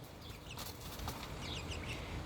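Buff Leghorn chickens, including roosters, make faint clucks and brief bursts of wing flapping against a steady, noisy outdoor background.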